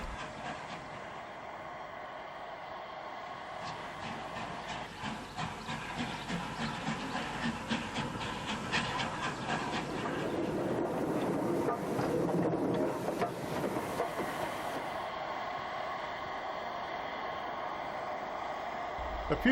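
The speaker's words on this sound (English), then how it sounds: "the loco shunts into the loop before crossing over to the downline platform" A steam locomotive shunts into the loop at a station on the Sidmouth branch, its chuffing exhaust pulsing steadily alongside rumbling wheels and a burst of hissing steam that swells midway, then eases.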